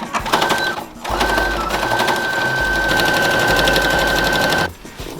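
Sewing machine running a seam on a wrestling ring apron, a loud rapid mechanical stitching chatter in two bursts, the second long and steady, then stopping, with no talk.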